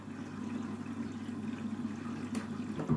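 A Candy washing machine fills with water during a bedding rinse cycle, a steady close rushing inflow with a low hum that runs without a break, ending in a brief louder splash near the end.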